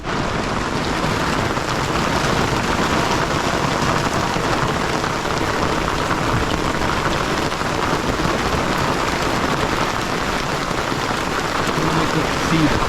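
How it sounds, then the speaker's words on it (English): Steady heavy rain pours continuously on a sailboat far offshore, a dense hiss of drops with constant loudness throughout and no clear voices. "There's a lot of rain over there."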